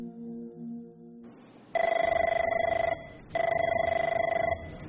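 A telephone ringing as a call to the police is placed, heard up close: a short tone and then two long electronic ring bursts, each about a second long, with a brief gap between them.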